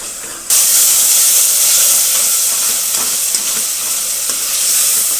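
Dried plums and mashed tomato roast in a hot pan, giving a loud, steady sizzle with faint stirring scrapes. Brief quieter moment at the very start, then continuous frying alone with no voices.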